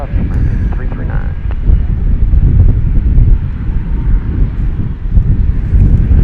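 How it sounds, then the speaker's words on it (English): A Volaris Airbus A321 at Dallas Fort Worth airport gives off a steady, fairly distant low jet roar, heavily mixed with wind buffeting on the microphone throughout. "There's a Volaris plane."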